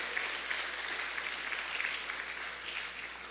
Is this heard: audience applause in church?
yes